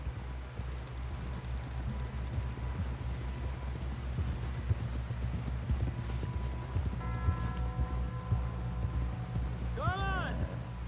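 Horse hooves clip-clop steadily in Red Dead Redemption 2, a quiet repeated beat under background music and game ambience, with a voice speaking over it.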